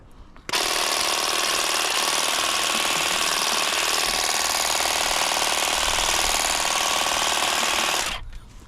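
An Ingco cordless garden pruning shear runs while cutting, giving a steady, loud buzzing drone that starts abruptly, holds for several seconds and then stops, with no talk.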